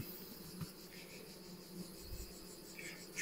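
Honey bees buzzing steadily inside a hive while a swarm colony is being split and set up, a continuous close insect drone with faint handling knocks and no talk.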